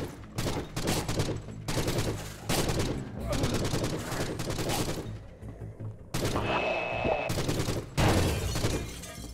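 Tommy gun firing in the Forgive Me Father video game, loud rapid automatic bursts separated by short pauses, with other game effects and a high electronic tone partway through.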